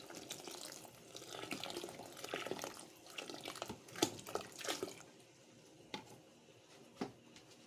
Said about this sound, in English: So I'm getting my cold water.